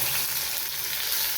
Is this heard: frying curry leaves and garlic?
yes